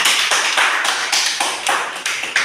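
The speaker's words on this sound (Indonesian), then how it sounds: "Berikan tepuk tangan." Students in a vocational high school automotive body-painting class clap together, a close, steady patter of hands with rhythmic surges roughly three times a second, lasting a few seconds with no talk over it.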